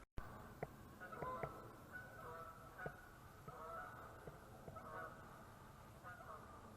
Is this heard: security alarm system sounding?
no